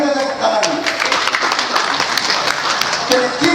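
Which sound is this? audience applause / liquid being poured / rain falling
audience applause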